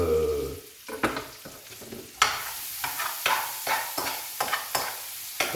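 Chopped onion sautés in a pan for a celery and chorizo risotto, a steady sizzle broken by repeated sharp scraping stirs at an uneven rhythm, close and fairly loud with no talking.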